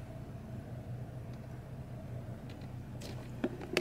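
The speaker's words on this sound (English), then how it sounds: "So we're just moving my car really quick." A car engine runs at low speed while the car is moved along a street, a steady low rumble with a few brief clicks and knocks near the end.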